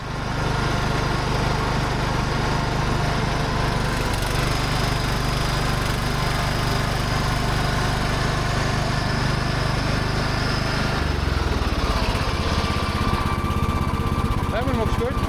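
Small engine idling after a Seafoam treatment, a steady rough drone with a buzzing high whine, close and loud, shifting in pitch near the end as the idle changes; a person talks over it.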